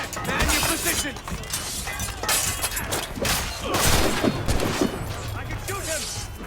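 Musket volleys in Assassin's Creed Rogue, dense crackling shots and smashing impacts layered over shouting voices in a loud, chaotic battle scene.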